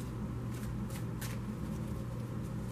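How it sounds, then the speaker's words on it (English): Tarot cards being shuffled close by, a few quick riffling bursts over a steady low background hum, with no one speaking. "I'm going to start shuffling for the next"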